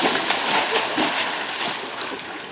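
Belly flop into a swimming pool, a burst of splashing and sloshing water followed by churning, with voices faintly in the background.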